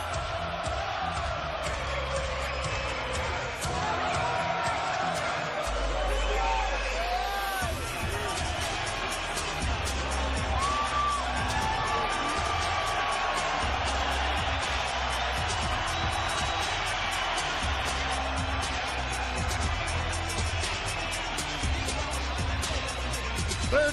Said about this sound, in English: And the crowd responds to Triple G.